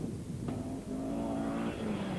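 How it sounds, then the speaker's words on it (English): A four-wheel-drive Sentra Coupe rally car on a gravel mountain stage, its engine droning with a held, slightly wavering pitch and a shift partway through, heard at moderate distance over outdoor noise. "Peter Baragwanoff and Charles Rieler in their 4-wheel drive Sentra Coupe, seen here in action on stage 1"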